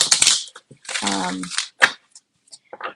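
Tarot cards being shuffled by hand, with quick, close riffling and clicking bursts at the start and again in short snaps later; a voice sounds briefly in the middle.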